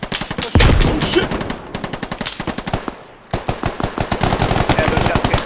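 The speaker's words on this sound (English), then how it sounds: "those shots came from 220" Rapid automatic gunfire in the video game Squad, tight bursts of loud close shots with a short pause, then another sustained string of shots, with faint voices underneath.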